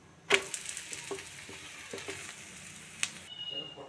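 Akki rotti, a rice flatbread, fries in oil on a pan with a soft, steady sizzle, punctuated by a few light taps and scrapes.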